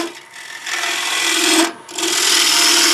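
A gouge cuts a tenon on a wooden plate spinning on a lathe, giving a loud, close, continuous rasping scrape with a tonal hum and a brief break as the tool lifts off.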